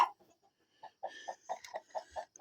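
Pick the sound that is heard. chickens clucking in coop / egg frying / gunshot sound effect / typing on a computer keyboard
chickens clucking in coop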